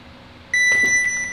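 A sharp electronic start beep cuts in partway through an arm wrestling training drill and sustains steadily to the end, with a few muffled thuds and movement noises beneath it.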